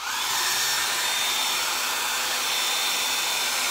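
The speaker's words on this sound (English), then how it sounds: "And you guys know my blow dryer trick. You can get close with the dryer." A hair dryer blows steadily at close range, a constant loud airy whoosh that never lets up.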